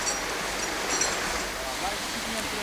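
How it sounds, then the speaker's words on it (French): Loud, steady rush of a waterfall in the Dardanet canyon on the Dardanelles river in the Loire, a dense continuous roar heard up close. "La première cascade mesure 15 mètres"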